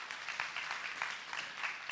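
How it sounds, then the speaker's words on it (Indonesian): Applause from a church congregation at a Sunday service, a steady dense patter of many hands clapping at a moderate distance, faint and continuous. "Tepuk tangan."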